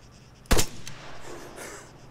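A single loud rifle shot fired in the Arma 3 video game, the target roughly 400 meters out; a sharp broadband crack followed by a rolling, fading echo tail, with no other sound around it.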